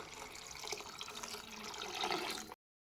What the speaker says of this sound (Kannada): ಇವಾಗ ಇದ್ರೊಳಗೆ ನೀರು ಹಾಕೊಂಡ್ಬಿಡೋಣ ರೀ.